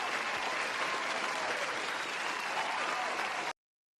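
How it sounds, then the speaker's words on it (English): A live audience gives a sustained round of applause for a guest named Darren, steady dense clapping at an even level for about three and a half seconds before it cuts off abruptly. "We'll give Darren a big round of applause."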